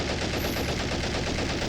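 Machine gun in the Men of War: Assault Squad game firing non-stop, a dense, loud, continuous stream of rapid gunfire with no pause and no talk.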